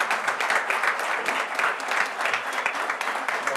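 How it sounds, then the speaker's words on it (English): Moderate audience applause in a transit board of directors meeting room after a motion carries, an even patter of clapping from a modest group. "Once again, a round of applause, please."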